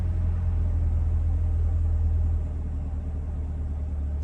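A 2021 C8 Corvette Z51 idles with its exhaust in stealth mode, giving a steady, deep low rumble that drones on evenly and stays fairly subdued throughout, with no voices over it.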